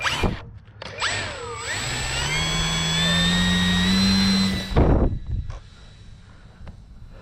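Electric motor of a Durafly Excalibur V2 power glider, an RC model, spinning up to a loud, steady high-pitched whine that holds for a few seconds and then cuts off abruptly.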